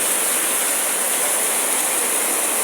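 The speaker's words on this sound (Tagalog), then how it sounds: "Lakas ng ulan" Heavy rain falling on an outdoor funeral setup with a projector and extension cords in Bustos, Bulacan, a steady, bright, even hiss of downpour, close and uninterrupted with no voices.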